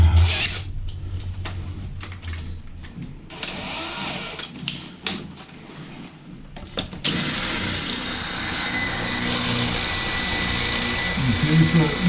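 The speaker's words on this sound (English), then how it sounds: "you're going to be drilling for quite a while using that masonry concrete carbide bit that they provide you" A regular power drill with a masonry carbide bit bores into concrete while a toilet flange is replaced, first as uneven grinding bursts between pauses, then as a steady, loud high-pitched whine that continues to the end.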